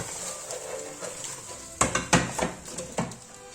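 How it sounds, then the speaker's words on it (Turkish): Metal frying pans clank against each other as fried anchovies are flipped using a second pan, with a few sharp close knocks and scrapes after a quiet sizzle. "bir tava yardımıyla balıklarımızı ters çevireceğiz"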